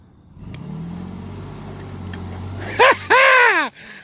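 An off-road vehicle stuck while wheeling idles with a low steady rumble, then two loud revving surges as the wheels spin to pull free, close by.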